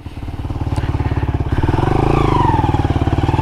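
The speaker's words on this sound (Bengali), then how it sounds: "আরে চাকা ঘুরে যাইতেছে, পিছনে চাকা আবার ঘুরতেছে" An XL motorcycle stuck in mud with its rear wheel spinning, a loud, close engine chugging in a fast steady pulse that rises in pitch and intensity as it revs midway.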